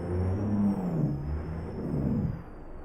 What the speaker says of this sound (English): Engine brake sounds pretty awesome.